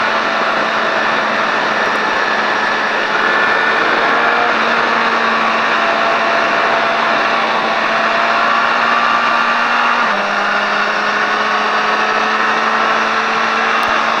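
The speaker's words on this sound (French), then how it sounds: "Et tu peux accélérer." Car engine during a driving lesson on a circuit, a steady loud drone with a low tone that rises gradually, drops suddenly near the ten-second mark, then climbs again, alone without talk.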